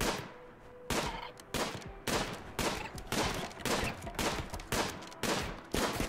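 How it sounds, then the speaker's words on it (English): Rapid bursts of gunfire from colonists hunting animals in the video game Rimworld, sharp repeated shots about every half second, loud and close with no talk. "A lot of shooting going on"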